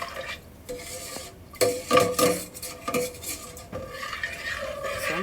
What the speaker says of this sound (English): So I'm just stirring around